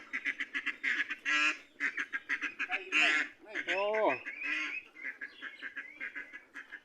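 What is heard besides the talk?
laying ducks quacking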